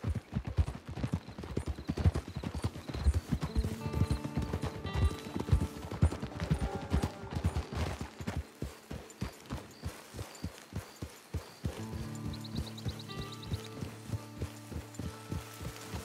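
Steady clip-clopping horse hooves at a walking pace in Red Dead Redemption 2 Online, repeated rhythmic thuds over a bed of music, with a brief whinny-like tone and some clanking near the end.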